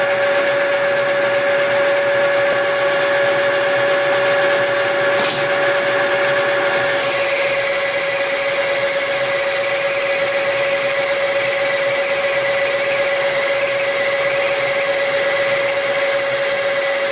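Metal part being machined on a machine tool, a steady loud whine with a constant tone that shifts higher partway through and holds to the end, with no talk.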